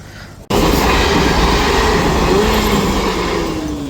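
A train roars past close by at a railway level crossing, starting abruptly and holding a loud, steady rumble with rattling wheels and a faint metallic squeal.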